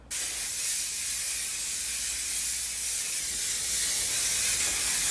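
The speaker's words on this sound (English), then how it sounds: "I'm going to take my Aerogel hairspray, shake it, and spray it all over." A steady aerosol hiss of Aerogel medium-hold hairspray sprayed onto curly hair, loud and close, running continuously for several seconds after a sharp start.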